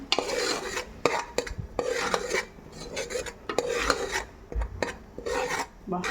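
Chicken stirred in butter in a metal pan with fennel, a close scraping spatula sound repeated in uneven strokes with faint sizzling beneath.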